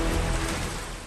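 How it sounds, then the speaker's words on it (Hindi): Continuous monsoon rain falls during the Assam floods near the rising Brahmaputra, a dense, steady hiss of downpour, close and loud, with no letup. "लगातार बारिश हो रही है, ब्रह्मपुत्र का जल स्तर बढ़ रहा है।"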